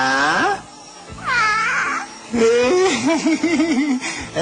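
A cat gives several drawn-out meows, rising and wavering in pitch, with a human voice cooing and chattering between them.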